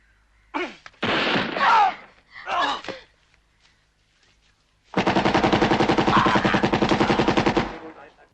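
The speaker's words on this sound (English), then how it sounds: "shoots him with his fucking chain gun that's not a chain gun. Like 100 times." Rapid machine gun burst from a 1988 action movie, Robowar, firing dozens of rounds in a steady rattling stream for about three seconds, loud and close, following a few short gasping vocal sounds.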